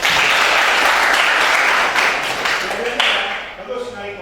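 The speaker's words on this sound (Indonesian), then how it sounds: "tepuk tangan dong" Dense, steady applause from a classroom group at a light-vehicle engineering workshop, loud and close for several seconds before thinning out at the end.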